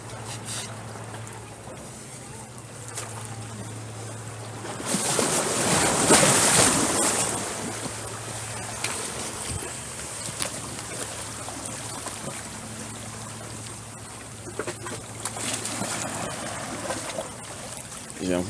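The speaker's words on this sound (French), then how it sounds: "juste écouter le bruit de l'eau, tout simplement" Water sloshing and lapping around a boat with wind noise, swelling into a louder rush of waves midway before settling back to a steady wash.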